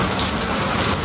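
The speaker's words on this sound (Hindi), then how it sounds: "देखें जी कितनी तेज बारिश" Heavy rain pours down steadily in Pakistan, a dense, continuous close-up roar of water with no pauses and no voices.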